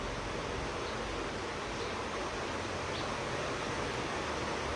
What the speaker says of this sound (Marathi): थांबा ना, तर 2 मिनिटं पाऊस बंद होऊ द्या.